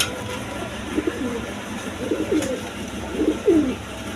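Red Jacobin and Maltese pigeons coo softly nearby, three low, rolling calls spaced about a second apart over a faint background hum.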